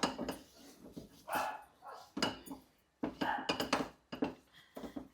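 A utensil scrapes and clatters in a pan while a coconut and ghee mixture for coconut balls is stirred continuously, irregular scraping strokes close by.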